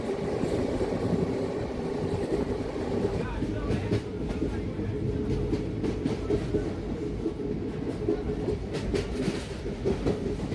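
Chakradharpur Express running late through the Purulia countryside: a continuous loud rumble with rhythmic wheel clatter on the rails, heard from on board and sustained throughout with no break.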